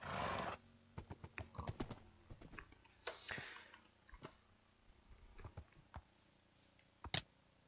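Sharp, irregular clopping and thumping of horse hooves in Minecraft, quiet and sporadic, with a brief burst of noise at the start.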